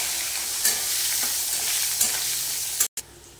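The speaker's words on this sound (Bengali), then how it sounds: "বন্ধুরা এবারে উচ্ছেগুলোকে লাল লাল করে ভেজে নেবে।" Bitter gourd pieces fry in hot oil with a steady, close broadband sizzle, broken by a few soft stirring scrapes and a brief cut near the end.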